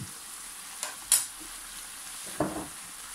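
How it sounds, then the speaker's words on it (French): Chicken filling with mustard is stirred in a hot pan during cooking, giving a soft steady sizzle with a few brief scraping strokes of the spoon against the pan. No voices are heard. "Là on arrive presque à la fin de la cuisson, on mélange bien."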